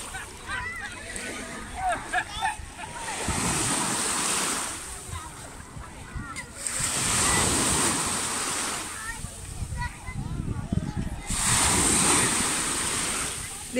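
Waves breaking and washing over a black sand beach at Chiavari, a steady surf roar that swells and recedes in repeated surges, with wind noise and people talking over it.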